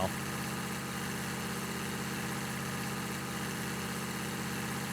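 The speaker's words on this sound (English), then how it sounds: "let's put this tractor to work here" Tractor engine idling in Farming Simulator 19, a steady mid-low drone with even vibration, constant and close with no talking.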